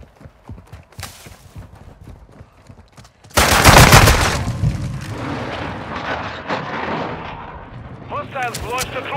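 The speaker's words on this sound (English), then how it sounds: "Launched a cruise missile." A cruise missile strike in Call of Duty: Modern Warfare II, with scattered gunfire, then a sudden loud explosive blast and a long rumbling decay, followed by more shots and short game radio chatter.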